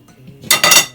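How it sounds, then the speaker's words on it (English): A lid goes onto a cooking pot of shrimp and scallop soup with celery and carrots, giving a short bright metallic clatter and rattle that rings out briefly, close and fairly loud, with no talking. "Just put on the lid on that."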